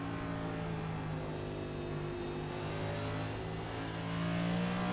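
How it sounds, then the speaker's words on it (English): A Next Gen series race car engine drones steadily in a racing video game at Richmond, briefly lifting off throttle out of a corner, with a continuous close, moderately loud mechanical hum throughout. "You can hear just a little small lift as Ryan comes off the corner to keep those rear tires planted"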